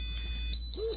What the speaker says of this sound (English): you might be able to hear a beep, a small beep from the control room number 1